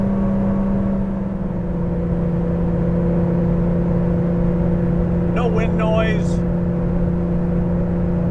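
Steady, loud engine drone from a 1983 Porsche 911 3.2 climbing uphill at half throttle in fifth gear around 4,000 rpm and 90, a constant humming tone heard from inside the car with a brief voice partway through.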